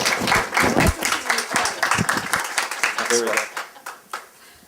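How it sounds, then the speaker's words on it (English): Applause from an audience at a university English department and library gathering celebrating author Alice Munro, clapping that swells strongly and then thins out while a voice speaks over its tail. "to applaud her success"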